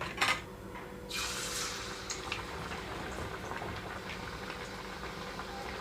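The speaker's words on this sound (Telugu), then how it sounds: "ఈ రెండు వైపులకి చక్కగా గోల్డెన్ కలర్ వచ్చే వరకు వేయించుకుంటున్నాను" Moong dal chekkalu, soft Telugu lentil crackers, fry in hot oil over a medium flame, giving a steady close bubbling sizzle throughout, with a brief louder splash and crackle near the start as pieces go into the oil.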